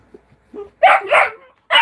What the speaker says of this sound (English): You barking at Dakota?